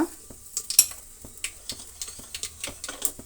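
Mustard seeds and onion frying in oil in a pot, with a light sizzle beneath brief, irregular clinks and scrapes of a spoon stirring, close and fairly quiet, with no talking.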